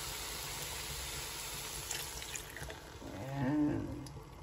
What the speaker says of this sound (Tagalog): Lagay na natin yung gata